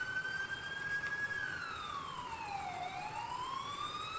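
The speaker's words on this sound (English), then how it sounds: "Yeah, I just turned the ambulance siren on." An ambulance siren in the EmergeNYC video game wails, sweeping slowly down in pitch and then climbing back up over a steady engine rumble, loud and continuous with no voices.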